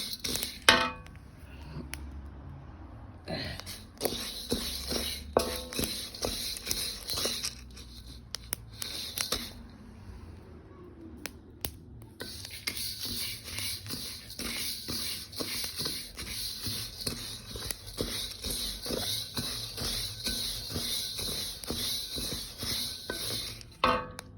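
Chana dal dry-roasting in a pan on low flame, being stirred and shuffled with a spoon, giving a steady run of dry rattling, scraping and clinking close by, with brief pauses, no talk.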